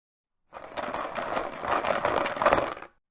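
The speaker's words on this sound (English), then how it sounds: "Push the neck in and then shake up the box." Plastic dice rattle continuously inside a shaken Axis & Allies battle box, a dense, close clatter lasting under three seconds and stopping abruptly, with no voices.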